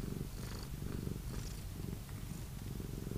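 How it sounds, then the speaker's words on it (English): A Sphynx cat purring close up, a soft steady rhythmic rumble pulsing with each breath, quiet and alone with no talk. "Immediately she's purring."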